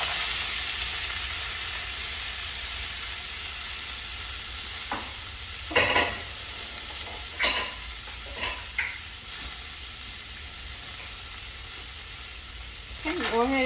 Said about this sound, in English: I'm popping in the 2 tablespoons of butter and my frozen vegetables.